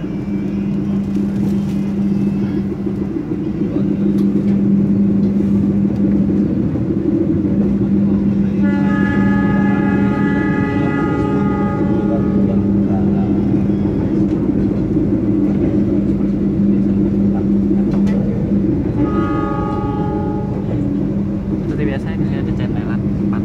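An executive-class passenger train runs from Surabaya to Solo with a steady, loud rumble of wheels on rails throughout, two drawn-out horn blasts from ahead partway through, and people talking over the noise.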